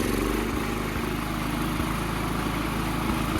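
A small John Deere 210 lawn tractor engine running at a steady, fairly high idle, a continuous rough putter with faint rhythmic knocks and no voices.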